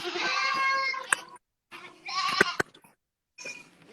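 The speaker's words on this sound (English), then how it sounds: "And then there's some more baby goats over here." Baby goats on a dairy farm bleat in three separate bursts, loud and close, with nasal wavering cries and a few sharp clicks between them.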